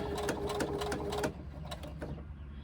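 A sewing machine stitches a fabric on-the-go pouch in a fast, even whir for about a second, then stops, leaving a few faint mechanical clicks and quiet handling.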